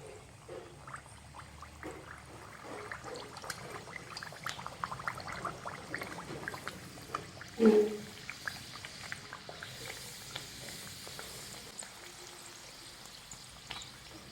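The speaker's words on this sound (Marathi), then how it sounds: "तर मध्यम आचेवर पुरी व्यवस्थित तळून घ्यायची" Puris deep-frying in medium-hot oil on a home stove give a steady bubbling sizzle throughout, with a brief louder splash and crackle midway, close by.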